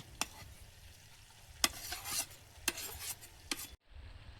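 Fried potatoes and dried fish go into a simmering curry, producing a few sharp scraping stirs and clinks over a soft sizzle, ending abruptly in near silence.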